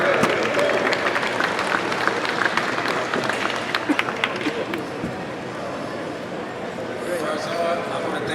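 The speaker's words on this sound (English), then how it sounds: "Give him a big round of applause." Press conference crowd applauding the new WBA light heavyweight boxing champion, steady clapping mixed with crowd babble and voices, continuous and moderately loud throughout.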